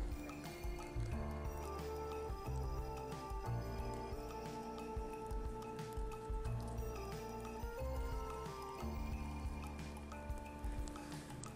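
Rain drips steadily at a forest campsite near a small campfire, soft irregular drops pattering on leaves and gear, quiet and continuous with no voices.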